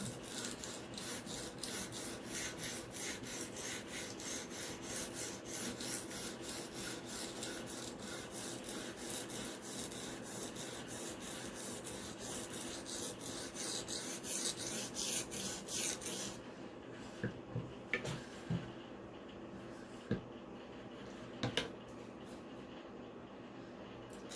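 Kyocera black ceramic knife sharpened on Matrix stones with light pressure, a rapid, rhythmic rasp of close, steady strokes that stops after about sixteen seconds, followed by a few faint clicks.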